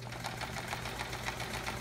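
A sewing machine stitches a Charming Chevrons quilt in free-motion quilting, its needle pounding in a quick, even rhythm with a steady motor hum underneath, close and continuous.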